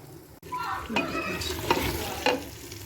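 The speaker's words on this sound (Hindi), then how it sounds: "चलिए जी इसको अब हम भूनते हैं" Mutton (gosht) pieces fried and stirred in oil in a pan for kachnar gosht, a steady close sizzle with repeated scraping stirs throughout, no talk.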